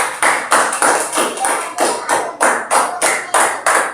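Children clapping hands in a classroom counting exercise, about fourteen sharp, evenly spaced claps in quick succession, loud and close with no talking over them.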